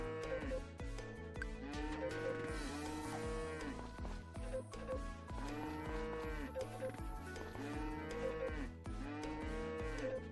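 Cattle moo on a farm in repeated, drawn-out calls, loud and close, overlapping in a dense rhythmic chorus with no talking.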